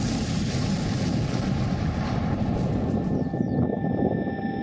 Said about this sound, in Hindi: डोनबास के आसमान में उड़ान भर रहे ये रूस के सुखोई 25 विमान हैं